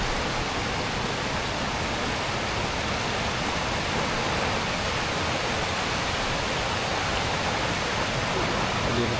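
A waterfall near a farm camping spot gives a loud, steady, broadband rush of falling water that fills the whole stretch without a break.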